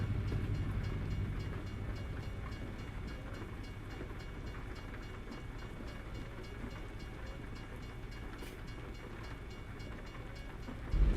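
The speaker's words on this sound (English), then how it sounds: "Man, which way is this train coming from?" A train rumbling past a level crossing in the truck-driving video game American Truck Simulator, a steady low drone with faint rhythmic wheel clatter, moderately loud and continuous with no talk over it.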